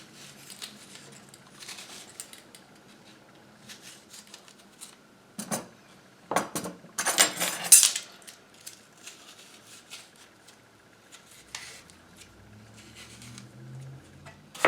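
A measuring spoon scrapes the core out of a halved apple in a few short, scratchy strokes, quiet and close, with soft clicks and pauses between them.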